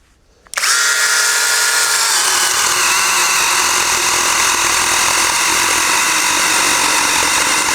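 A cordless battery-powered saw starts up after a brief moment of quiet and then runs at a loud, steady high-pitched whine while cutting hard apple wood, with no pauses and no voices.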